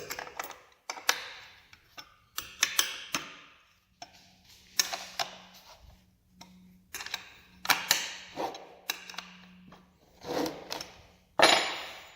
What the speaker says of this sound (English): After you find your wrench, you will tighten it on down.